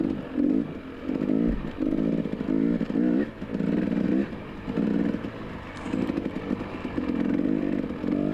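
Motorcycles racing on a wet track at a 2019 NMA Round 8 event at Hareport, engines rising and falling in repeated loud surges as bikes pass near, with steady throttle bursts throughout.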